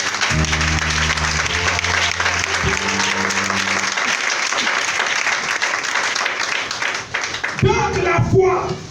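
A church congregation applauds and cheers loudly at a Christian worship service, steady dense clapping mixed with crowd voices and music throughout, shifting near the end.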